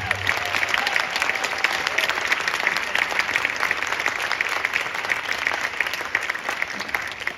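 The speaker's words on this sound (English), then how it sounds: "Will you all please give a round of applause to them?" Audience applause at a high school spring jazz concert, a dense, even clatter of many hands sustained for the whole stretch at moderate volume, with no voices over it.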